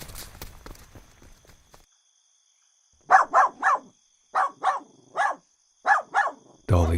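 A dog barks in three quick bursts of two or three sharp barks each, loud and close, outdoors at a wilderness campsite at night, following faint rustling and a few footsteps.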